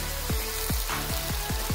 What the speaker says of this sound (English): And I'm going to fry it down so it separates beautifully.